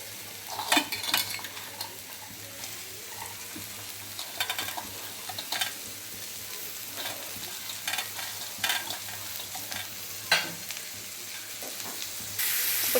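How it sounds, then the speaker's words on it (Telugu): Chopped onions frying in hot oil for a capsicum fry, a steady sizzle with repeated scraping and stirring of a spatula against the pan, close and moderately quiet. "ఇప్పుడు దీంట్లో మనము తరిగి పెట్టుకున్న ఆనియన్స్ని యాడ్ చేసుకోవాలి."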